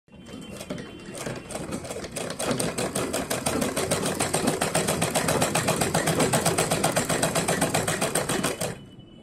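A sewing machine runs a continuous, fast rattling stitch for about nine seconds while sewing a small summer dress, steady and close with no talk.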